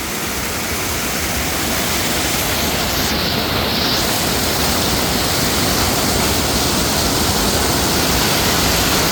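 Water pours heavily down the stepped face of the Chithirai Chavadi check dam near Coimbatore, a loud, steady roar of rushing flow that fills the whole stretch without pause or voices.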